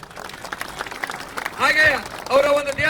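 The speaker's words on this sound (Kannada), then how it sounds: "ಪ್ರೀತಿಯ ರತ್ನ ಕಾರ್ತಿಕ್ ಅವರಿಗೆ ಸರ್ ಚಪ್ಪಾಳೆ ಬನ್ನಿ" A crowd at a Jamakhandi wrestling ground applauds wrestler Kartik, scattered clapping swelling into a loud burst of applause and cheers, with an announcer talking over it.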